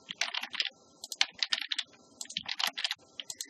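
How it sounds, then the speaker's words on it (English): Fast typing on a computer keyboard, close and crisp, in irregular bursts of clustered key clicks with brief pauses between them, alone without talk. "you can just put in, type in anything here."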